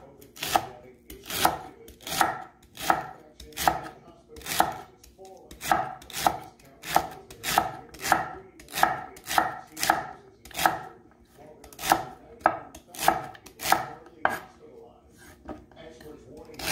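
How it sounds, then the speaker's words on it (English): Celery being chopped small with a knife on a cutting board, a steady run of crisp, evenly spaced knocks close up, repeating about twice per second throughout. "And then celery, and so chop small."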